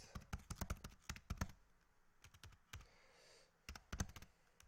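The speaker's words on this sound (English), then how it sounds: "I cannot type. This my keyboard is very bad." Fingers type on a poorly working computer keyboard, producing close, quiet bursts of rapid key clicks separated by short pauses.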